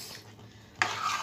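Chicken dakhni with coconut pulp, coriander and mint leaves stirred in a pan, a soft scrape followed by a brief louder sizzle and clatter.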